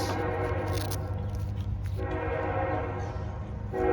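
A train rolls past close by, its horn blaring in long sustained tones over the rumble of the cars, with the sound swelling again at the end.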